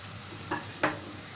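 Chicken frying in a pan for Chicken Manchurian, with a steady low sizzle and two brief, louder bursts as chopped tomatoes drop in and are stirred.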